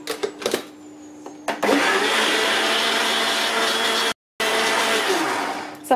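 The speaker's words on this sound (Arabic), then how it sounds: "وغادي نطحن كلشي مره اخرى مزيان" An electric blender grinds banana cake batter in a steady, loud whirring roar that runs for several seconds, cuts out for a moment, then resumes, after a few clicks and knocks at the start.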